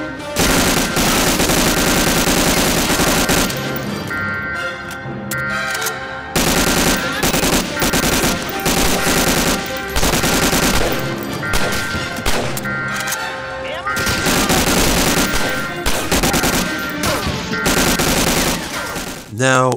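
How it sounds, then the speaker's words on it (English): Sturmgewehr 44 assault rifle from the World War II shooter Medal of Honor: Allied Assault fires loud sustained automatic bursts, close and dense, with short pauses between strings of shots and no talking. "Sturmgewehr 44."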